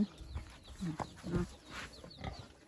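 Farm chickens cluck softly and repeatedly while being fed vegetable scraps, with close scratching and rustling, and pigs may be grunting nearby in the farmyard.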